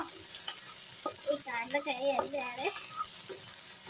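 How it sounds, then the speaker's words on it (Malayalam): Pulissery, a yogurt curry, is stirred in a pan on the stove, with a soft steady sizzle and scraping strokes. A voice briefly rises over it midway. "നല്ലപോലെ ഒന്ന് ഇളക്കി കൊടുക്കുക"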